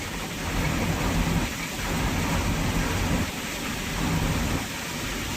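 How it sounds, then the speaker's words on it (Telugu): Heavy rain pours down in a dense, roaring hiss while low rumbles of thunder swell and fade in several waves. "ఒకటే ఉరుముతుంది ఒకటే కొడుతుంది వాన"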